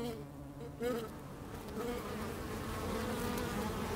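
Bees buzz in a continuous, fairly loud drone that holds steady throughout, with a slight swell partway through.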